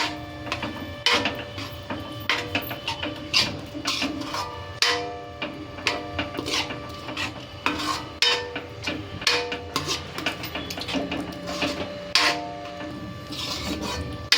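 Green chickpeas in a spiced curry being stirred in a pan, a steady run of close scraping and rasping strokes against the metal with frequent clicks and knocks, no voices.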